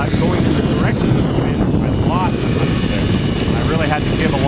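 A helicopter pitching forward and climbing, its rotor and engine drone steady and loud throughout, with a person talking over it.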